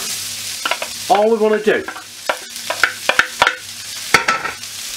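Finely chopped onions sauté in a pan, a spoon stirring and scraping in short bursts over a quiet sizzle, while a person speaks briefly partway through.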